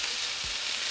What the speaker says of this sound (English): And we're going to saute it for a couple minutes.